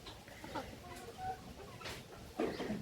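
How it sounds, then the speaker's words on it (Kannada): A Kadaknath chicken on a poultry farm gives soft, scattered clucks, faint and close, over a quiet background hiss. "ನೋಡಿ, ಕಡಕ್ನಾಥ್ ಕೋಳಿ ನೋಡಿ ಹೆಂಗಿದೆ"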